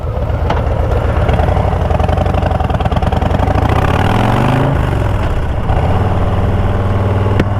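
A Harley-Davidson Low Rider ST motorcycle engine with aftermarket exhaust rumbles loudly at close range, blipping through a couple of sharp throttle revs that rise and fall before settling back into a deep idle.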